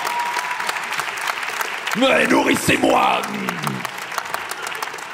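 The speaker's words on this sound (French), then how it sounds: "Ah ouais, allez-y, vous pouvez applaudir ça." Applause from a comedy show audience, a burst of clapping and crowd noise that swells under a comedian's loud spoken line, then continues more steadily afterward.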